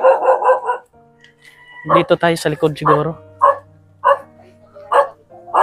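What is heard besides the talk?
dog barking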